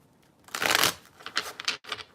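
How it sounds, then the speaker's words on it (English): Tarot cards being shuffled by hand, a brisk riffling burst followed by several shorter flicks and taps, close and clear with no talking. "Let me give you a good shuffle."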